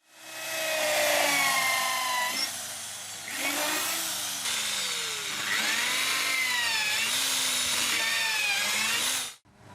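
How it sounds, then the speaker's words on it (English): A 10mm bit drills through a 200 by 50 macrocarpa timber board, a loud, steady power-drill whine that rises and bends in pitch as it bites, runs nearly ten seconds and then cuts off abruptly. "we now drill right through the first piece using a 10mm drill"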